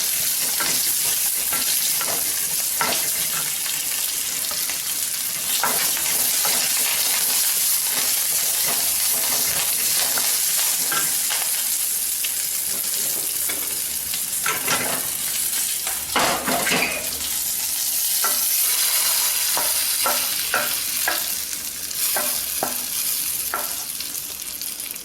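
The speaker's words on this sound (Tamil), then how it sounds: "நல்லா வதங்கட்டும்." Onions sauté in a pan for arachuvitta sambar, giving a continuous close sizzle and hiss broken by frequent scrapes and clinks of a spoon stirring against the pan. No one speaks.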